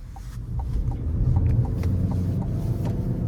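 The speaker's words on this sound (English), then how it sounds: "let's go ahead and take this 2025 Chevy Equinox Activ out on the road for a test drive" 2025 Chevy Equinox Activ with a 1.5 turbo engine driving on the road, a steady low cabin rumble of engine and road noise with a few faint clicks and taps over it.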